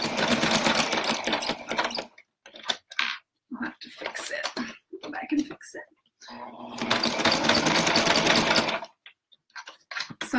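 A sewing machine stitches oven mitts in two loud bursts of running, each a couple of seconds long, with a stretch of quieter handling noise between them. No speech is heard.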